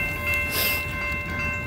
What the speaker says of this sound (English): got a train coming. It's going kind of slow.